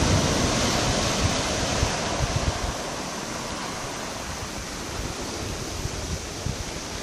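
Sea waves surging against the south jetty of a harbour at dusk, a steady broad wash of rushing water and spray that stays loud and continuous throughout.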